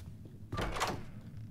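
A door swinging open in the Roblox horror game Doors, a single short, close creaking thunk rising briefly out of quiet background, with no talking.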